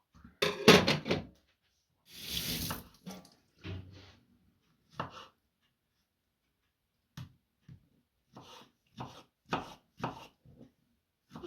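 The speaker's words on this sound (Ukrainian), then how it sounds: "так кубиками поріжу." A knife thuds against a cutting board in a quick burst, then a pause and a steady run of separate chops cutting food into cubes, close and fairly loud.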